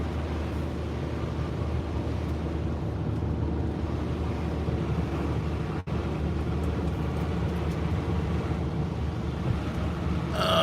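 A 2008 Ford Fusion drives along rough roads on a test drive after a transmission replacement, giving a steady, continuous low road and engine rumble with wind-like noise throughout and no talking.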